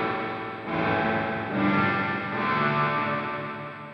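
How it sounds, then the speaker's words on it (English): Electric guitar through the spring reverb of a Sonicake Matribox 2 multi-effects unit with the mix fully wet, sustained chords swelling with a dense, splashy reverberant wash, steady and fairly loud. "It's a very, very nice spring reverb."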